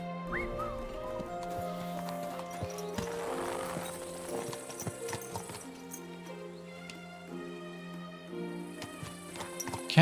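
Horse hooves clopping at a steady riding pace in Kingdom Come Deliverance II, the rhythmic footfalls set against sustained tonal music and ambient game sound, with no talking.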